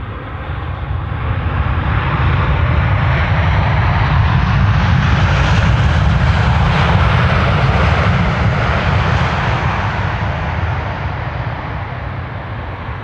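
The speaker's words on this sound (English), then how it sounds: "This is KLM flight 622 arriving from Atlanta, Georgia. Now this is 7879 Dreamliner." KLM Boeing 787-9 Dreamliner arriving at Amsterdam Schiphol from Atlanta, a steady loud roar of jet engines swelling to a peak midway and easing off as it passes, with no talk over it.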